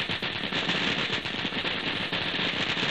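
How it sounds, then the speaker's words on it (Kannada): Dense, rapid crackling bursts of firecrackers go off continuously without pause, loud and close, filling the whole stretch like a long string of crackers being set off during a morning puja at home. "ಏನೇ ಇದು ಪಟಾಕಿ ಶಬ್ದ"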